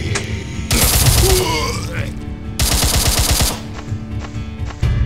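Two long, loud bursts of rapid automatic fire from an AK-47 in the zombie shooter game Zombie Frontlines 3D, with quieter gaps between them and someone talking over the action.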